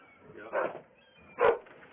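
Two short dog barks, about a second apart, sound somewhat muffled and mid-distance against quiet background, from behind a door during a sheriff's search warrant.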